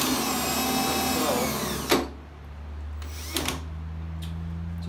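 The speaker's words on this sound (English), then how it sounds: "plan here is to use the wheel as I'm spinning this whole operation with my drill" A power drill spinning a wheel whirs at high speed, winding down abruptly, followed by a couple of short clicks and a lower steady motor hum.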